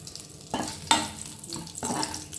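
Whole garam masala and two bay leaves sizzle in hot oil in a pan, with bright crackling frying and a few stirring scrapes, close and loud with no talking.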